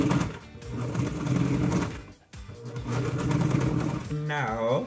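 A sewing machine stitches seams on a vest in quick steady runs, with a brief pause midway, while someone talks over it and music plays in the background.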